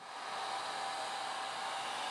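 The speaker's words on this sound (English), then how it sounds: "I'm going to go ahead and use the hair dryer quickly to go ahead and expedite the drying" A hair dryer drying a photographic emulsion blows with a steady, whooshing hiss, close and unbroken throughout.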